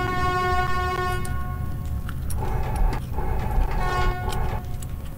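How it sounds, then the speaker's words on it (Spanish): Train horn in the video game Metro 2033 Redux, a sustained harmonic blare sounding under rumbling rail noise, with a couple of shorter toots later, fairly loud and close. "¡Oh, puedo tocar la bocina cuando quiera!"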